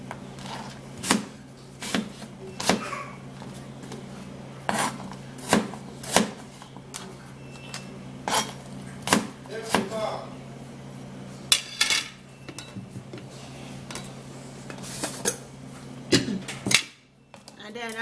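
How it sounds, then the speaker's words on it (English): A knife chopping food on a board while preparing a fat-loss drink, with sharp cuts repeating at an uneven rhythm close by over a steady low background hum. "just wash and then you cut."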